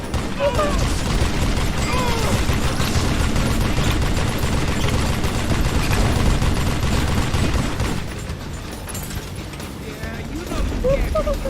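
Gunfire in the Western video game Call of Juarez: Gunslinger, rapid repeated shots and mechanical clatter over a dense, busy din, easing briefly before picking up again, with speech mixed in.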